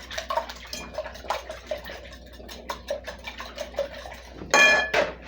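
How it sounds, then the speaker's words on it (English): Nine eggs beaten in a bowl with a utensil, rapid rhythmic clicking of metal against the bowl, close and moderately loud, ending with a louder clattering knock. "I'm just going to break them and beat them up a little bit."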